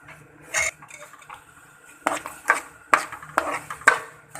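A metal spoon stirs sugar into khoya in a pan for gajar halwa, making repeated clinks and scrapes against the pan in irregular strokes. The stirring grows busier in the second half, close and fairly quiet, with no speech.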